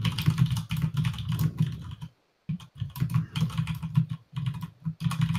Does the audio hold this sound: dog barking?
no